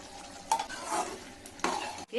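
Mutton gravy with ground coconut frying in a pan, a steady sizzle broken by two sharp scraping stirs of a spoon against the metal, close and clear, with no talking.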